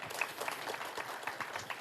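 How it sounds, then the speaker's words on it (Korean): Applause from the audience at a panel discussion forum on responses to low birth rates and an ageing population, a steady patter of clapping heard from a distance, fairly faint. "큰 박수 다시 한번 부탁드립니다."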